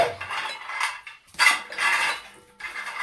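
Dough for Gujarati methi gota being kneaded and mixed by hand in a bowl, with close, sticky squelching and scraping in several loud bursts separated by short pauses.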